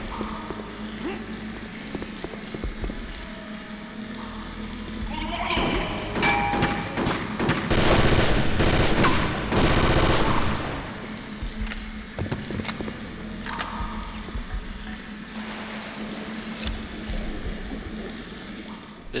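Automatic burst fire from a FAMAS rifle in a Little Tokyo sewer level of the game Chaser: rapid clusters of sharp shots over several seconds, standing out against a continuous bed of game ambience and other thuds.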